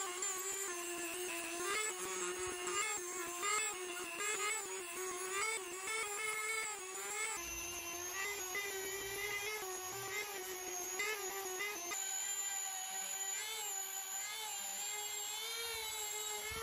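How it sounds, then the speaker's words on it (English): A Dremel rotary tool whines steadily as it shapes a wooden crankbait, its high buzzing pitch shifting slightly as pressure on the wood changes, close and continuous with no talking. "Now we're going to shape it with the Dremel."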